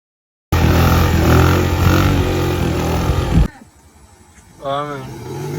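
A motorcycle engine roars loud and steady during a stunt run, then drops away abruptly, leaving quieter background with a brief rising whine near the end.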